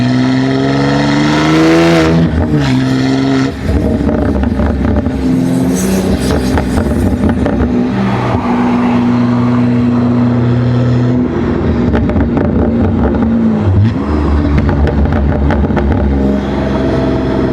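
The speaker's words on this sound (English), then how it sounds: "Really happy with this exhaust setup for sure." BMW G80 M3 with an IRL 4-inch modular midpipe, valves open in Sport Plus, revving loudly and repeatedly, its exhaust note climbing and dropping in sharp bursts that run nonstop close to the listener.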